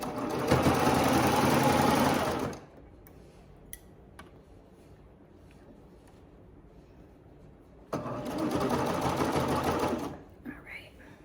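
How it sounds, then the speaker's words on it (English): A serger overlock sewing machine stitches a waistband onto a garment, running in two loud, steady bursts of about two and a half seconds each with a quiet pause between them and faint small clicks. "let's go ahead and serge it on"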